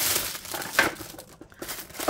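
Packaging crinkles and rustles as a diamond painting storage box is unwrapped, with soft close crumpling and a brief tearing scrape, fairly quiet.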